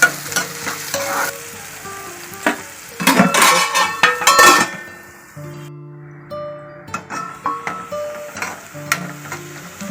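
Onions and green chillies frying in a pan with curry leaves for an old-style mushroom curry: steady close sizzling while a spoon stirs and scrapes against the pan, with clinks of metal in between.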